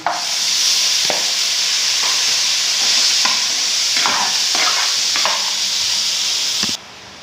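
Meat and vegetables stir-fried together in a pan, a loud steady sizzle broken by spatula scrapes and stirs about once a second, stopping abruptly near the end.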